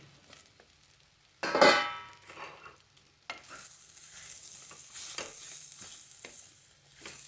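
Whole dry fruits dropped into hot ghee in a pan, a sharp burst of sizzling followed by steady frying hiss and occasional stirring clinks, close and fairly quiet.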